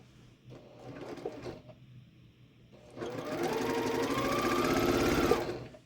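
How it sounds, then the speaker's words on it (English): A sewing machine stitches together quilt pieces for a Christmas block, running in one steady, fairly loud stretch of rapid mechanical whirring after a few seconds of quieter handling and light rustling. "we're going to sew from the top right to the middle left"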